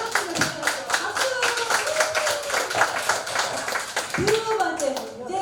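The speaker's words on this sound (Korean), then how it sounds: "박수!" An audience at a seniors' school class in Korea gives a short round of scattered, brisk hand clapping, close and continuous for several seconds, with people talking and calling out over it.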